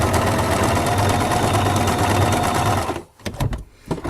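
Sewing machine stitching an understitch on Italian-style trouser pockets, a loud, fast, continuous mechanical whir that stops abruptly, followed by a few scattered clicks and handling sounds.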